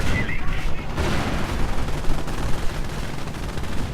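Dense battle noise from a World War II strategy game as a Pershing tank fires on a StuG: continuous gunfire and heavy cannon booms, loud and sustained throughout.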